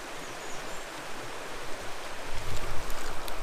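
A small brook trout creek, Powder Mill Creek in Michigan's Upper Peninsula, a tributary of the Black River. It flows with a soft, steady broadband rush, faint and even, with a slightly louder low gurgle near the end.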